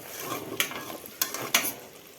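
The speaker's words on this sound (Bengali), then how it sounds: "এখন আমগুলো দিয়ে দিব।" Mango pieces are stirred into spiced jaggery for pickle, with soft scraping and a few sharp clinks of a spoon against the pan over a faint bubbling sizzle, heard close and quietly.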